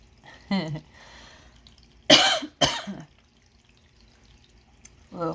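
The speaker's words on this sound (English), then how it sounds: "Whoa, has a random cough." Someone coughs sharply twice near the middle of a Reiki healing livestream, with brief voiced sounds before and after.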